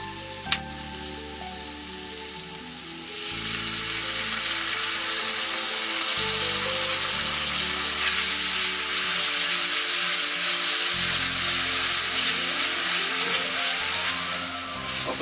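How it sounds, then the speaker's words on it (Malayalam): Tomato sauce poured into a hot pan for egg chilli, with a broad sizzle that swells after a few seconds and holds steady, while a low, pulsing hum runs beneath it and no one speaks. "ഇനി ഇതിലേക്ക് നമ്മുടെ ടൊമാറ്റോ സോസ് ഇതിലേക്ക് ഒഴിച്ചു കൊടുക്കാം."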